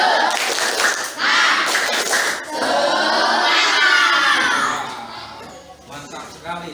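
A classroom of children joins in a rhythmic clapping chant to build energy before a lesson, with loud, bunched claps and excited voices shouting together, then the group noise softens toward the end.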